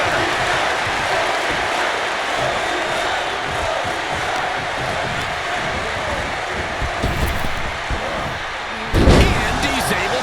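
A large arena crowd in the wrestling video game WWE 2K23 roars and cheers steadily throughout, a dense wash of noise under commentary, with a sharp heavy impact near the end.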